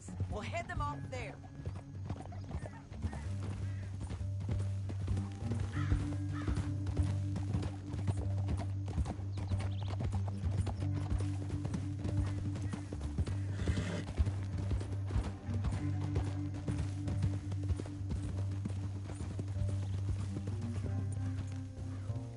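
Hooves clip-clop steadily as horses move along in the video game Red Dead Redemption 2, with an occasional whinny, all over a constant low droning background.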